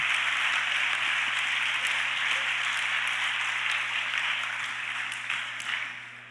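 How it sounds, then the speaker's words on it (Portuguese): A church congregation applauds for Jesus Christ during a sermon. The clapping is broad and sustained and thins out toward the end, over a steady low electrical hum. "Pode dar um aplauso para Jesus Cristo?"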